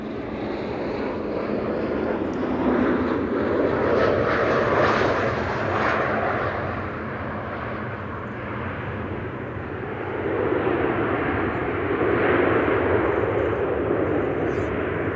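An airplane arriving at Amsterdam Schiphol Airport, a jet engine roar that swells as it passes and then rises again with a second pass, steady and fairly loud outdoors with light wind noise and a voice talking over it.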